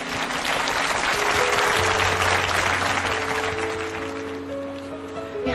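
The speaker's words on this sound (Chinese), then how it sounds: "我们现在掌声有请孙静" A studio audience at a Chinese family mediation show breaks into sustained, dense applause, loud and continuous throughout, tapering slightly toward the end with no voices above it.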